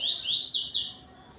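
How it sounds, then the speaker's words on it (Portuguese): Yellow-billed coleiro seedeater delivering its tui-tui song at dusk: a few bright, rapid sweeping whistles, close and clear, fading out after about a second. "coleiro bico amarelo. Ele dá um cante tuí-tuí bonito"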